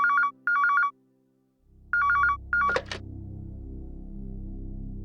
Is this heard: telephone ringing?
yes